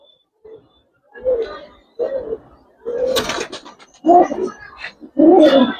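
Giribaz pigeons coo in a series of low, throaty bursts close by, with short pauses between calls and a faint voice at moments.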